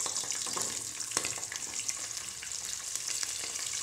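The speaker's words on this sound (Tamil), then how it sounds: "கடுகு பொரிஞ்சது கொஞ்சம் ஜீரகம், வெங்காயம் முழுசாகவே போடுறேன்." Mustard seeds, cumin and whole onion frying in hot oil for sambar rice, a close, steady sizzle with crackling pops and a few stirring scrapes, no voices.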